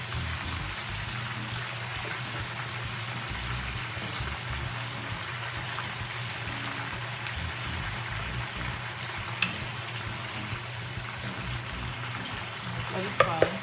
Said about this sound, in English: you're frying it until it's brown